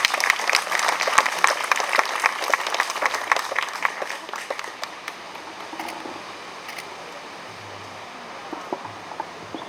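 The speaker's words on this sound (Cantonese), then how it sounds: "我哋有請澳門天主教文化協會主席李斌生主教為大家致辭，掌聲有請" An audience claps at the opening ceremony of a contemporary art exhibition of six religions in Macau. Dense applause rises at once, then thins and fades out over about five seconds into quiet room tone.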